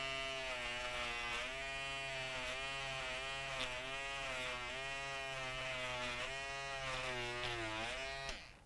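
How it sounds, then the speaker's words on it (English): An electric Peggy stitch eraser shaves bobbin thread off the back of a large embroidery fill area, giving a steady, loud, close buzzing hum with slight pitch wobbles that runs continuously before cutting off at the end. "I'm going to use this Peggy stitch eraser"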